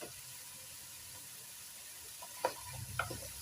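Spices and garlic with fresh black pepper cooking in a pan for butternut soup, a faint steady sizzle with a couple of brief clinks of stirring near the end, no voices.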